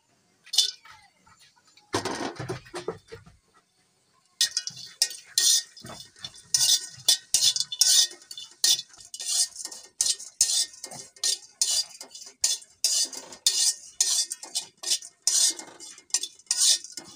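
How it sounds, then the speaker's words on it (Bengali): Dried chela fish fried and stirred in a large wok, heard as dense, rhythmic metal-on-metal scraping and clinking of a spatula, close and fairly loud, continuing steadily after a brief pause. "একটি বড় সাইজের কড়াই বসিয়ে দিয়েছি। প্রথমে আমরা কড়াইয়ের ভিতর করে শুটকিগুলো ভেজে নেব।"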